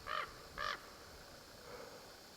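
Two short, harsh raven calls ring out fairly close in quiet open country, a pause between them, and then a fainter call follows further off.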